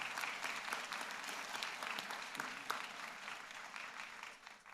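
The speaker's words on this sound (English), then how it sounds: "Perhaps you might want to give your supporters and staff members a great round of applause" Graduation ceremony audience applauding, a dense, continuous roar of many hands clapping in a large hall, steady and distant before fading at the end.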